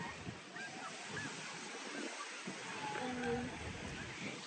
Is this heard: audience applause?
no